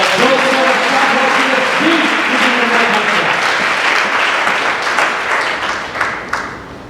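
A church congregation applauding, loud sustained clapping from many hands that tapers off toward the end, with a voice speaking over it early on.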